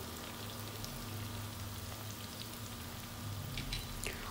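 Radish pieces frying with turmeric in a pan over a high flame, a faint, steady sizzle with scattered crackling pops throughout.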